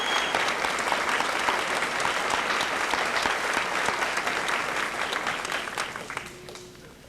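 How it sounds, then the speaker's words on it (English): An audience at a high school senior assembly applauds students with sustained, dense clapping that fades out at the end. "Let's give these students a nice round of applause as they go back."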